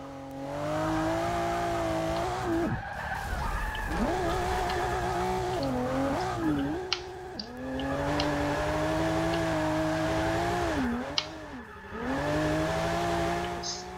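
A Maserati Ghibli Cup drifts with manual clutch in a racing game, its engine droning and revving up and down continuously, with brief dips where the revs bog and recover, plus faint tire noise.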